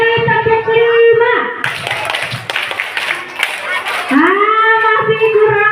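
Children clapping in a patterned rhythm at a Maulid Nabi gathering: a burst of loud, quick group claps in the middle, framed by children chanting together before and after.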